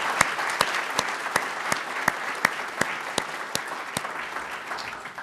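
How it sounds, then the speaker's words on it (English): Audience at an education event announcing a digital learning initiative breaks into sustained applause, dense clapping with sharp individual claps standing out, loud and steady throughout with no voices over it. "Please give him another round of applause."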